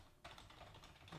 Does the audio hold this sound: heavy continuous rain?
no